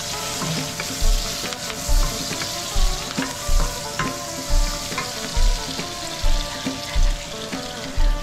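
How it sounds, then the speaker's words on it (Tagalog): Pancit noodles with sardines fry in a pan with a steady close sizzle, broken by regular scraping stir strokes that land roughly once a second. "Magluluto muna ako ng simpleng pansit na ang sahog ay sardines."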